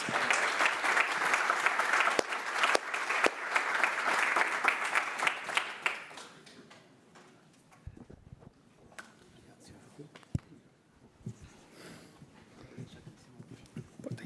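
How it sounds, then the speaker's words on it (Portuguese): Loud applause greets Brazil national team player Marquinhos, twice-consecutive Champions League winner, as he arrives on stage at a press conference; dense clapping fills the first six seconds, then fades to scattered claps and room noise. "agora sim pedir uma salva de palmas, que a gente vai receber aqui no palco um cara"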